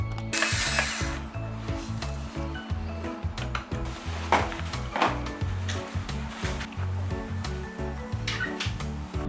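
A screw being backed out with a ratcheting driver during a home repair, a steady run of close, rapid mechanical clicks and whirring, with a few louder scrapes along the way.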